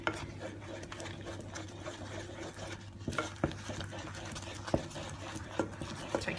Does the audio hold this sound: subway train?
no